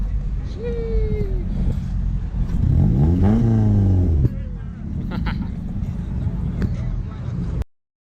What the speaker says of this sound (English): the 392 Hemi pulls up and he's blaring music out his car